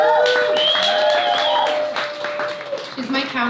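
An audience at a locals night opening gala and fundraiser bursts into steady applause, which continues under a voice and a whistling tone and then thins out toward the end.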